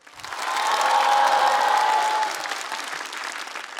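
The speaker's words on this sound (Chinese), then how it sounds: "掌声，谢谢大家。" Audience at a Chinese stand-up comedy show breaks into applause, a dense wash of clapping that swells quickly, holds for about two seconds and then thins to a softer patter.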